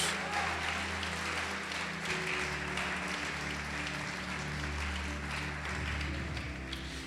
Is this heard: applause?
yes